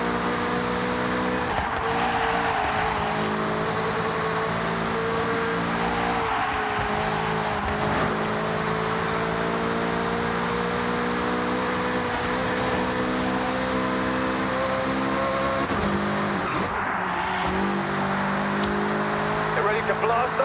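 Racing car engines in Forza Horizon 6 hold a steady loud drone with shifting pitch, running continuously under game music and a talking voice.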